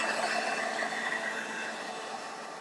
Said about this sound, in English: let's go ahead and get the car blown off